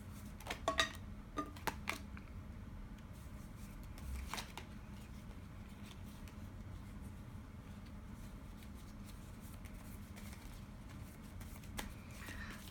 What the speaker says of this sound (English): I'm just gonna pull a few more cards